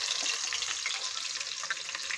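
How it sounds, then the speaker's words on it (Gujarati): Onions are dropped into hot oil in a pan for green paneer curry, giving a soft, steady sizzle and crackle of frying that sounds a little distant, with no talking. "ડુંગળી નાખી રહ્યા છે"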